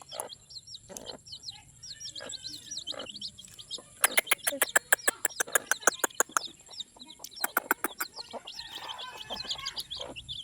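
Chickens cluck and chirp nearby, with bursts of rapid repeated calls in the middle and other birds tweeting faintly in the background.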